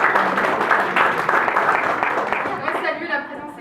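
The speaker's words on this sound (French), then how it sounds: "On va l'applaudir." Audience applause at a political party section's New Year gathering, a steady wash of clapping from a room full of people with voices mixed in, tapering slightly toward the end.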